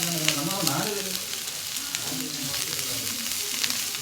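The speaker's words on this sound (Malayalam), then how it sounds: "ഇനി നമുക്കിത് കുറച്ച് നേരം വഴറ്റാം." Onion flowers sauté in a pan with a continuous soft sizzle, while a person talks over it throughout, close and steady.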